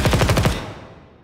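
Rapid automatic weapon fire in the video game Ground Branch, a short loud burst of about six close shots in quick succession, then a fading echoing tail with no talk.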